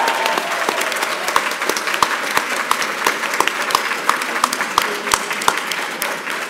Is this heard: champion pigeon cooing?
no